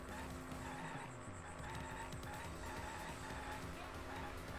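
A car in the Danganronpa V3 game drives and skids, a low revving engine hum with squealing tire tones, fairly faint and continuous under background game sounds.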